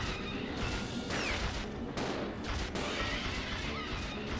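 Gunfire in the Resident Evil Zero video game: a few loud sharp shots cracking out at uneven intervals over a steady background of game noise.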